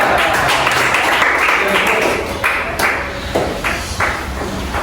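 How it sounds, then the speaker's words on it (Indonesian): Classroom pupils clap for a group of classmates, a loud burst of brisk, scattered applause that gradually thins out into a few sharp individual claps. "Beri tepuk tangan yang meriah untuk kelompok 2."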